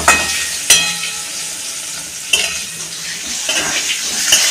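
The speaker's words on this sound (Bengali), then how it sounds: "আলুটা আমি ভালো করে ভেজে নেব" Potato pieces fry in a pan with a bright, close sizzle, punctuated by three or four sharp clanks of a utensil stirring against the metal.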